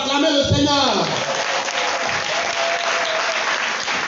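A church congregation applauding the Lord, dense sustained clapping and cheering that fills the room throughout, starting over a voice that fades out within the first second.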